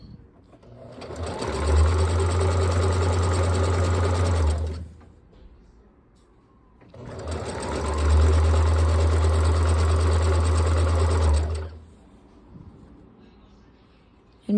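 Sewing machine stitching fabric runs in two steady bursts of about four seconds each, loud and close, with a pause between them and no talk.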